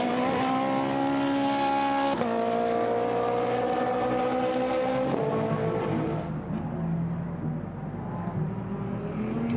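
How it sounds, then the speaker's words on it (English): A Ferrari 488 GT race car accelerates hard out of a chicane at Paul Ricard circuit during a GT race, a loud, sustained high-revving engine roar with rising pitch that drops sharply at each gear change. "the great noise that the Ferrari 488 makes comes then now up through the chicane Nord"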